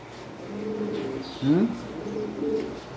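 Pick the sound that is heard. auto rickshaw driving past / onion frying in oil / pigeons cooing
pigeons cooing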